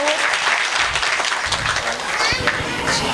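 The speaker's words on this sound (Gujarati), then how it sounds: "જોરદાર તાળીઓના ગડગડાટથી બાપુને બતાવો." A crowd at a saints' gathering and memorial ceremony applauds a speaker with brisk, uneven clapping that stays loud throughout, mixed with scattered voices and chatter.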